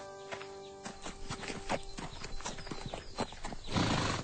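Horse hooves clip-clop in a steady walking rhythm close by, joined near the end by a loud neigh.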